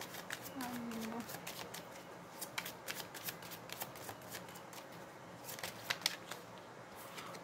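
Tarot cards being shuffled by hand, a steady run of crisp riffling and flicking, close and fairly quiet, with a brief low vocal murmur near the start.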